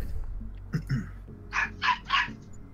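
A small dog yaps outside in three quick, sharp barks that carry faintly over a low background hum.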